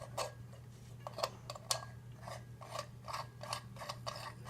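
Sink strainer being screwed into a drain, producing faint, irregular ticking and scraping clicks over a steady low hum, no talking.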